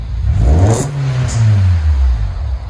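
A 1995 Honda Del Sol inline-four with a five-speed and a 1320 stainless steel muffler revs up, its loud, deep exhaust note rising and falling, close by and alone.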